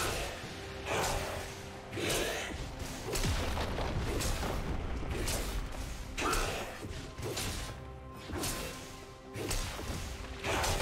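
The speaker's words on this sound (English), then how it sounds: "Red team's turret has been destroyed." A turret being destroyed in League of Legends, heard as a string of crashing, booming impacts and mechanical clatter repeating through a busy, moderately quiet game soundscape.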